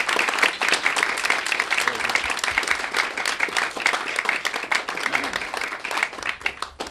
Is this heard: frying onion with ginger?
no